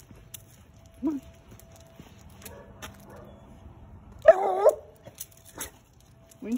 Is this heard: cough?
no